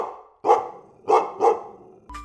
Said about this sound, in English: You got it. It's a dog.